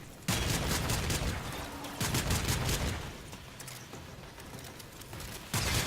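A rapid-firing shotgun in the video game Warframe fires repeated loud, close blasts that overlap into a dense, continuous barrage with a few sharper shots standing out.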